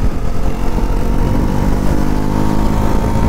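A Bajaj Pulsar NS400Z motorcycle engine pulling hard under acceleration, a loud close-up continuous growl with wind rush, steady throughout with no talk.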